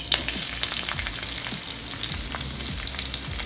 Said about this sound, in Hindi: लंका टिके तापरे आमे पियाज पकेबा